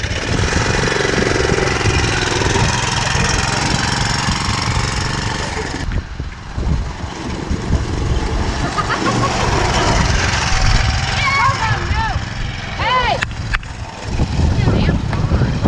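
An old go-kart engine found in a barn runs loud and close with a rough, chattering idle, briefly dipping before picking up again, with people talking faintly underneath.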